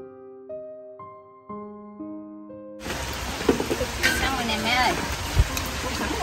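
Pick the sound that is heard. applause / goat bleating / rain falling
rain falling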